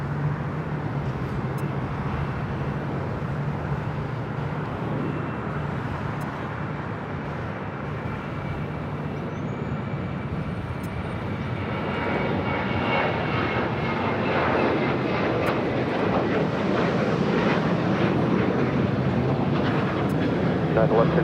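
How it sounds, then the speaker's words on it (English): An Avianca Airbus A320neo lands at LAX, a steady jet engine roar that swells louder in the latter half as the aircraft touches down, with radio voices talking over it. "Just touching down, a flight coming in from Guatemala City"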